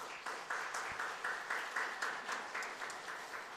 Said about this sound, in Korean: 우리 가족 일어나서 인사드릴 때에 큰 박수 해주세요